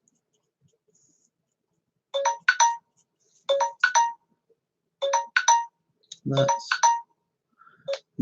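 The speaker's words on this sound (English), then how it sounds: "my alarm telling me that we've nearly done an hour" A phone alarm ringtone goes off in short bursts of bright electronic chimes, repeating in a quick melodic pattern, close and clear, with a brief spoken word near the end.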